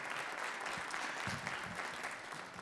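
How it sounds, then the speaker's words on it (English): A room full of people at a township state-of-the-community event applauds a local Ford dealership sponsor, sustained dense clapping at moderate distance with faint crowd murmur underneath. "Round of applause for Jack Dimmer Ford, please."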